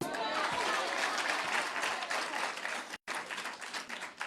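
An audience applauds at a State House gathering where women's group leaders congratulate President Maada Bio. The clapping is dense and fairly loud, with a voice carrying over it, and breaks off for a moment near the end before resuming.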